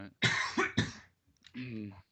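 A man coughs twice in sharp, close bursts, then makes a short throaty follow-up sound, all loud and near with brief pauses between.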